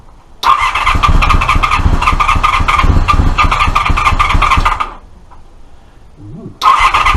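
A carburetted car engine with intake trumpets, primed with poured fuel, catches and runs loud and rough for several seconds, cuts out, then fires up again.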